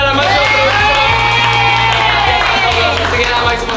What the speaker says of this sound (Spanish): aplauso para Ari y para la máxima promesa.